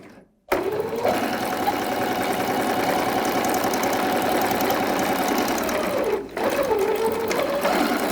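A home sewing machine runs a steady, fast stitch on stitch setting 3 through fabric for a child's unisex jumpsuit, using a size 11 needle. The loud, even whirring continues with one brief pause before resuming.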